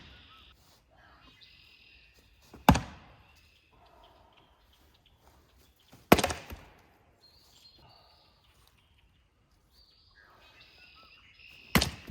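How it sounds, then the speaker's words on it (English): Three sharp, loud cracks of wood rounds being split by hand, spaced a few seconds apart, each a sudden impact that quickly dies away over a quiet outdoor background. "But for now, I'm gonna split some wood."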